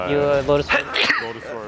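A single sharp sneeze bursts out in a Dota 2 championship commentary booth at The International 10, loud and brief between close-miked speech from the casters.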